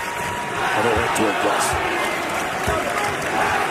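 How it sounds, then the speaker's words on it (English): A college basketball arena crowd, Duke Blue Devils at St. John's Red Storm, roars and cheers in a continuous, fairly loud swell that fills the whole stretch. "And listen to the crowd."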